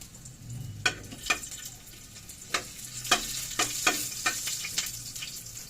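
Garlic sautéing in a pan gives a faint, low sizzle broken by several sharp spatula scrapes and taps against the pan, spaced irregularly and close.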